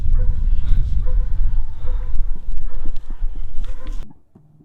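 Several dogs bark repeatedly in the run-down old mining town of Chloride, New Mexico, loud, close yips and barks mixed with a clip-clop-like knocking, before the sound cuts off sharply near the end.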